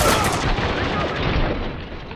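Heavy machine gun fire in Spec Ops: The Line, a dense, sustained barrage of close, loud rapid shots that fills the whole stretch without a break.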